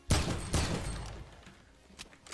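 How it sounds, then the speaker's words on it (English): A short burst of AK rifle fire in Fortnite: two or three sharp, close shots in quick succession, then a fading tail and a faint final crack, with no talk. "Especially with the AK, as I said, it is really important to not miss the first shots"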